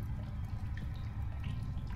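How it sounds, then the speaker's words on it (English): Water drips in an underground area in the video game The Solus Project, faint and sparse against a steady low ambient rumble, with no voices. "I hear water dripping."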